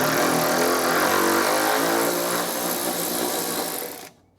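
A power tool whirs loudly and continuously at close range as it loosens a bolt through undercoating on the threads, then stops abruptly after about four seconds.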